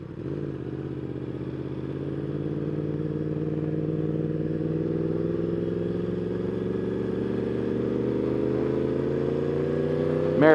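A 2021 Yamaha R1 sport bike with a Woolich tune cruises along a bumpy, potholed road, its engine holding a steady, loud drone that climbs slightly in pitch toward the end, with no talking.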